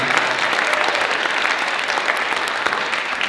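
A crowd applauding at a New City Kids Detroit show, loud and dense clapping, continuous and close throughout with no gaps.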